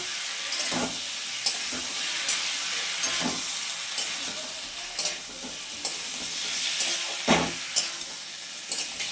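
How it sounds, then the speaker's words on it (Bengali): Spice paste sizzles and fries in a hot wok while a utensil scrapes and stirs it in irregular strokes, close and fairly loud, no talking. "মশলাগুলোকে কড়াইতে দিয়ে নিয়েছি এরপর আমি ভালো করে নেড়ে নেবো মশলাটা"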